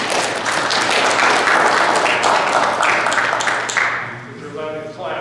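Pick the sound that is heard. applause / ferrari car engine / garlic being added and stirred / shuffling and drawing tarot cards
applause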